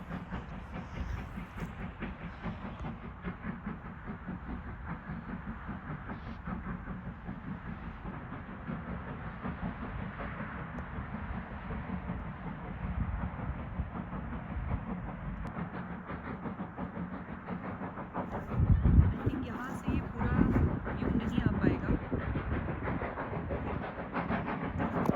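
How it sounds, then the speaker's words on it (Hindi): A steam train passing at a UK family attraction: a long steady rumble of rolling wheels with rhythmic clatter that swells louder and heavier toward the end. "तो आपने पुरानी फिल्मों में देखा होगा ऐसे धुएं निकालते हुए ट्रेनें गुजरती हैं।"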